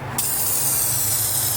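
After a brief quiet start, an aerosol can of carpet dye sprays onto a car's carpet, a steady, close, bright hiss that continues unbroken to the end.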